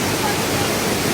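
Water pours down the Sitakund waterfall as a dense, steady roaring hiss, loud and close, with no talking during the brief moment.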